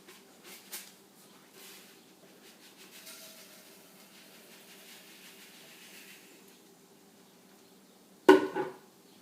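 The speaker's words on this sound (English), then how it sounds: "And you want to start adding your rice." Rice poured into about a quarter cup of hot oil in a pan gives a sudden loud sizzling crackle near the end, after a long stretch of quiet low kitchen hiss.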